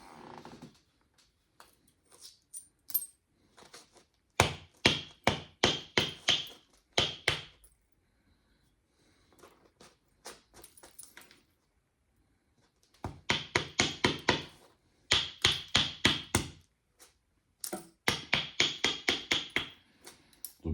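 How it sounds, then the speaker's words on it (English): A hammer knocks pieces off a blocky creek cobble stone to thin it, with bursts of rapid, ringing close strikes grouped in quick runs, separated by pauses and lighter taps, with no talk. "try to knock pieces off to thin this piece of stone"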